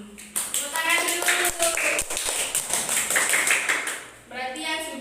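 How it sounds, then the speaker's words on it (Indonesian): Hands clap in a classroom, a run of sharp taps spread over several seconds, with a voice speaking over part of the clapping. "Tepuk tangan dulu."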